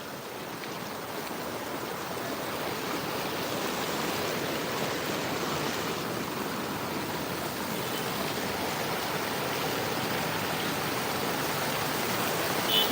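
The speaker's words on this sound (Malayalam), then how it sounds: "നല്ല ശക്തിയായ ലെവലിൽ തന്നെ അടിയൊഴുക്കോട് കൂടിയിട്ടാണ് കേട്ടോ വെള്ളം വരുന്നത്" Strong river current roars steadily and continuously during heavy monsoon rain at a flooded bridge, a dense, close, unbroken flow with no voices.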